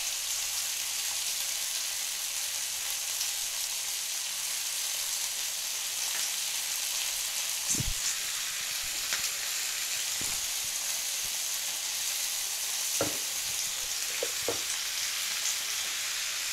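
Spiced masala with turmeric frying in a pan for pea ghugni, a steady bright sizzle throughout, with a few faint stirring clinks and scrapes now and then.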